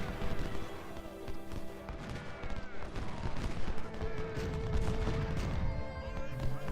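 Musket volleys crackle in the Civil War strategy game Ultimate General, ragged bursts of massed gunfire with distant booms layered over a constant low battlefield rumble.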